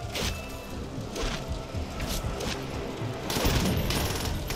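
Rapid bursts of gunfire in the video game Call of Duty: World at War, a dense, continuous fusillade with louder volleys toward the end, filling the whole stretch without speech.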